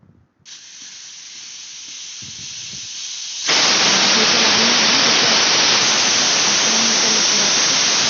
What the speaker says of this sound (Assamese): আৰু এতিয়া কুকাৰৰ ঢাকনিখন লগাই পিনে প্ৰায় আপোনাৰ 5টামান হুইছেল অহালৈ ৰখাই থ'ম